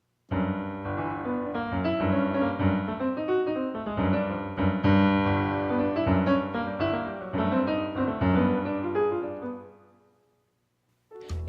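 Upbeat jazz piano intro built on a busy arpeggiated right-hand line over full chords, played loud and continuously for about ten seconds, then stopping abruptly and ringing out into near silence.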